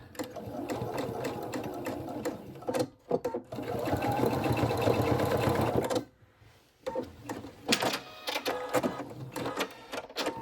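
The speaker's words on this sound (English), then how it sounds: "I noticed that I didn't sew this evenly" A sewing machine stitching close along the teeth of a zipper on a small keychain wallet pouch, running in short fast bursts separated by pauses, loud and nearby with no talking.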